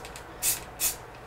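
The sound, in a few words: spraying primer in short spurts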